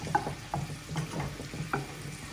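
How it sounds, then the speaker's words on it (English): Fruit compote being stirred round in a hot pan, a soft, close sizzle with faint scrapes of the spoon at a steady rhythm. It is quiet and there is no talking. "stir them round"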